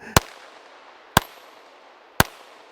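Three sharp, loud .22 WMR gunshots from a Volquartsen Scorpion pistol fired at a steel plate outdoors, evenly spaced about a second apart, each a crisp crack with a brief ring-off and no talking.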